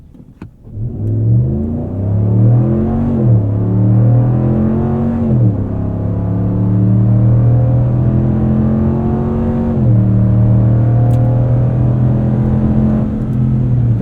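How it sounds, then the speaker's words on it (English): A 5.7L Hemi V8 in a 2026 Ram 1500 pickup roars at full throttle, its deep exhaust note climbing steadily in pitch through gear changes, loud and close, with no one talking. "Let's give you guys some full throttle here."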